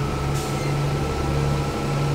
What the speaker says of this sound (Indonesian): Mesinnya di air mengaung guys.